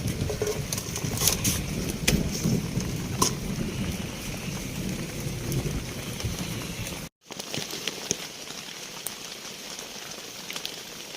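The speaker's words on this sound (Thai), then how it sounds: "ฟังเสียงฝนนะครับ ก็จะตกแบบนี้เรื่อยๆนะครับ" Steady rain falls without pause during a rainy night, a dense broadband patter that holds at an even level, with a brief dropout partway through, and no voices.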